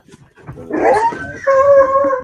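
A dog lets out a close, loud, drawn-out howl that rises and then holds a steady wavering tone, with no talk over it.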